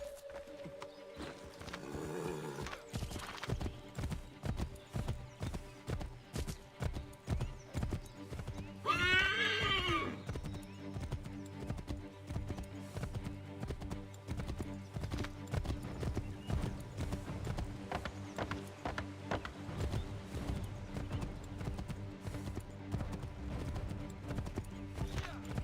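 Rhythmic hoofbeats of a galloping horse in Assassin's Creed III drum steadily throughout, with a loud whinny partway through and a faint tonal game soundtrack underneath.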